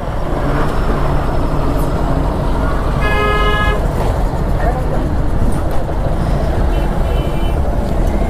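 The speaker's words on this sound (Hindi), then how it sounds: "अभी ट्रक आ रहा है यार।" A truck passes on a blocked road at night during food delivery riding, with a horn tooting briefly in the middle over steady loud traffic rumble; voices talk nearby.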